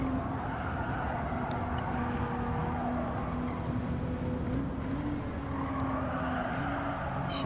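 A race car engine drones steadily in Gran Turismo 7 during the WTC 600 race at Tokyo East, held at high revs in seventh gear, a continuous, moderately loud whine with no voices.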